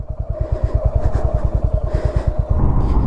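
A motorcycle on an evening ride across an island in the Sundarbans gives a steady, close, rhythmic engine thump at a low, even speed, with no talk.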